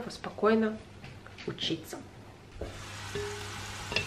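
Food sizzles gently in a frying pan in a home kitchen, a faint steady hiss running beneath a woman's close speech.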